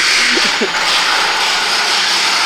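A corded, non-brushless Makita power tool keeps running with a loud, steady high-pitched whir in a garage during work on a Lamborghini, close, with a brief voice-like blip near the start.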